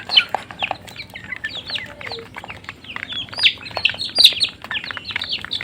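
A busy flock of native Bangladeshi chickens and chicks, with a duck among them, cluck and peep continuously up close, a steady mix of chirps and low clucks as they feed.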